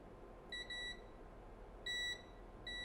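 Multimeter continuity tester beeping while probing a capacitor on a phone circuit board: three short, clean electronic beeps, some broken into quick double pulses, separated by pauses of over a second over a faint steady hiss, with no voices.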